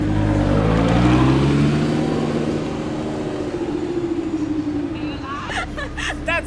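A Lamborghini Huracan Performante Spyder on the road, its engine a steady low drone that swells early then settles into a cruising hum, with a background murmur of voices throughout.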